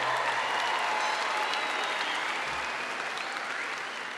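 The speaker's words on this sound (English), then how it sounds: "Let's give them a round of applause." Dense, steady applause from a large audience at the Arlington High School class of 2015 graduation ceremony. The clapping holds at an even, loud level throughout and eases slightly toward the end.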